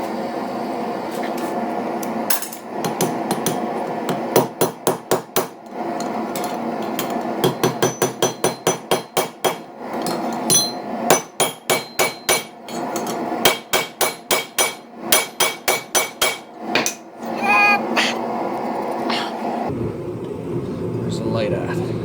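A hammer strikes a hot rivet while forging railroad spike tongs, loud close metallic blows in rapid rhythmic bursts separated by pauses, over a steady roar of the forge fire.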